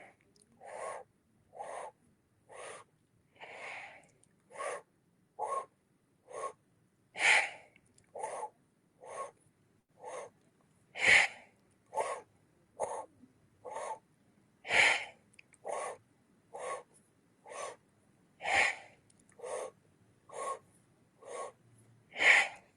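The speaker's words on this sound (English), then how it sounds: "3 breaths in, squeezing the hands. 1 breath out with the relaxation." Rhythmic breathwork of fast audible breaths repeating in a steady cycle, with sharper sniff-like inhales and a stronger exhale every few beats, close and clear against silence, with no talking.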